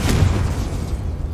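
A Confringo fire spell blast in the Hogwarts Legacy video game, a loud, booming explosive burst that rumbles deep and steady for just over a second, close and with no voices.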